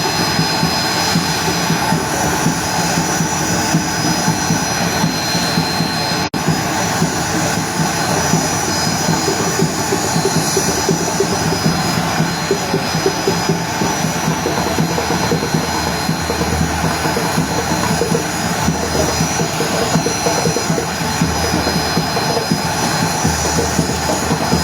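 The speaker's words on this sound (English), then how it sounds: "The flight will take off shortly." Jet aircraft engines roar steadily and loudly at an airport before takeoff, a dense, constant whine and rumble that fills the whole stretch without letup.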